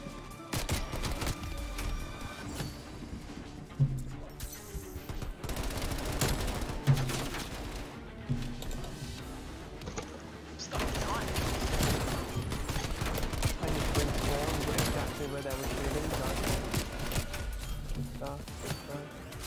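Dense, continuous video game gunfire with rapid bursts and heavy impacts runs throughout, loud and busy, with a player's voice talking over it.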